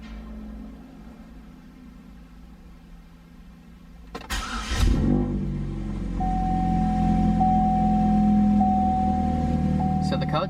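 A car with a P0449 evap leak code cranks briefly and catches, then settles into a steady idle hum with a faint high whine, close by; a person talks before the start.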